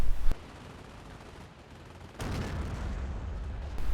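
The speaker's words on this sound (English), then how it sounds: "Sniper continued to fire at these guys." Gunfire and a sniper shot crack through a World War II video game battle with a Sherman tank, opening with a sharp report, then a lull before a long, heavy rolling barrage of shots.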